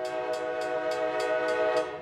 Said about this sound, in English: It's more than just the sound of an oncoming train.